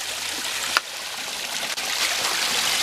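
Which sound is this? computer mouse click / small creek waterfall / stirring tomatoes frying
small creek waterfall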